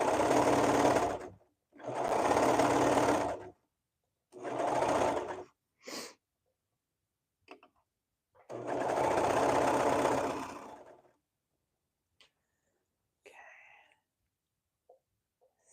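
Bursts of a sewing machine stitching a dress, four or five runs of steady rapid whirring separated by pauses, close and fairly loud, with a few faint handling clicks near the end.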